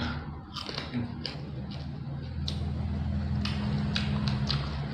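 Close, crisp bites and chewing on eggplant dipped in salt, eaten as a snack: a series of sharp crunches at an irregular pace over a low background hum.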